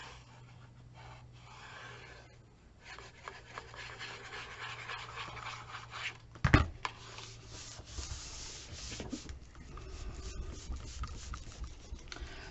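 A tool rubs and burnishes down a paper album hinge in close, soft scratchy strokes, with one sharp louder knock partway through.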